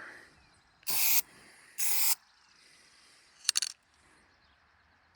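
Short bursts of aerosol spray paint applied to a brake caliper bracket: three separate hissing blasts, the first two about a second long each and a quick sputtering third, close and fairly loud over a quiet background.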